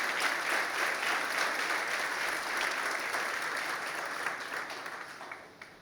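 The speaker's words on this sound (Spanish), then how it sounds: "Denle un aplauso al Señor." A church congregation gives loud, continuous applause, many hands clapping in a dense wash that tapers off toward the end.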